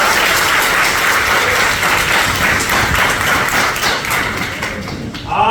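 An audience at a lecture claps together in a dense, sustained round of applause that holds steady and then tapers off toward the end.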